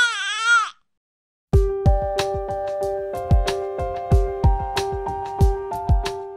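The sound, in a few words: baby crying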